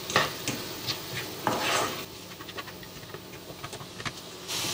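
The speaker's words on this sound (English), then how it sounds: "Now we're just looking to just saute these just for a couple of minutes." Mushrooms sautéing and being stirred in a pan, with soft sizzling under repeated scraping and clinking of a utensil against the pan, close and fairly loud.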